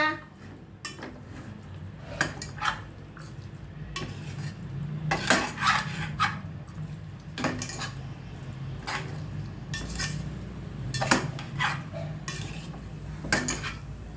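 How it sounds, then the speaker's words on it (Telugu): A spoon scrapes and clinks against a metal cooking pot as mutton curry is stirred, irregular knocks and scrapes recurring every second or so over a low simmering background. "అడుగంటకుండా ఇట్లా కలుపుకుంటూ ఉండాలి, అంతే."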